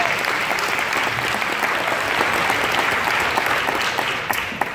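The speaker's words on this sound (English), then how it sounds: "So big round of applause for our host today." Sustained applause from a presentation audience thanking the host, a dense, even wash of clapping hands that holds steady throughout and tapers slightly at the end.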